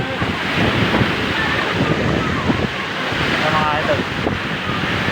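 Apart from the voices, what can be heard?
waterfall rushing water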